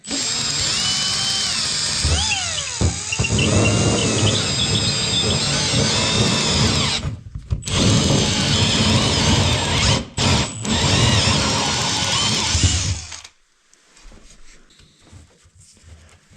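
A power drill bores into the timber of a 128-year-old log cabin under renovation, whining loudly and steadily for about thirteen seconds with brief pauses and stutters before cutting off into quiet.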